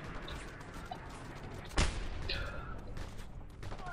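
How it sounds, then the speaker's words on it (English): A rocket launcher fires in Just Cause 2, one sharp loud blast standing out from a busy wash of game combat noise, with a rushing trail of sound after it. "Oh shit, rocket launcher."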